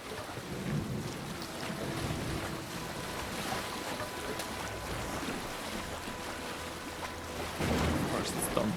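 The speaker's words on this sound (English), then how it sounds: "Of course it's storm." A thunderstorm at sea in Assassin's Creed Valhalla, with a steady low rumble of wind, rain and water around a ship and a louder surge of thunder near the end, faint and continuous.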